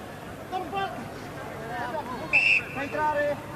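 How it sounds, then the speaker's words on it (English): A referee's whistle blown as a scrum collapses during a 1987 Rugby World Cup match between Fiji and Italy, a single short high blast rising over crowd murmur and commentary. "Immediately that happens, Keith Lawrence is obliged to blow the whistle."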